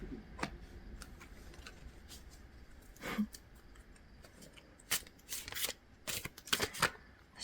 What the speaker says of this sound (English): So as I'm shuffling out these cards, I'm only doing 3 for this reading